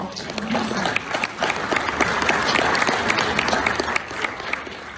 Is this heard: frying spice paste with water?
no